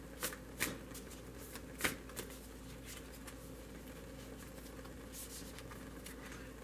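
Tarot cards shuffled and handled at close range, soft papery riffles with a few sharper snaps, quiet and without talk.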